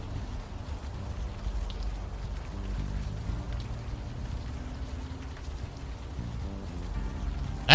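Steady rain patters and hisses without a break in the Unavowed game, a dense even wash that holds at a constant level with low rumbling beneath it.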